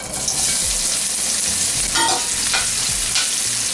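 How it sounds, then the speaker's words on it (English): Onion frying in half a cup of hot oil on high heat while being stirred, a steady dense sizzle with occasional scraping strokes of the spoon against the pan, loud and close throughout. "Oil is now hot, and I'm going to start by cooking the onion."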